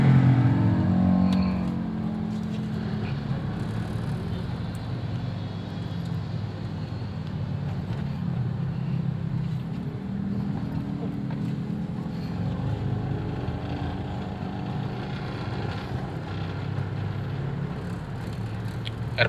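A Toyota Innova fitted with a Black Core device pulls away in first gear, its engine droning steadily with low rumbling and road noise from inside the cabin, fairly loud and continuous with no talk.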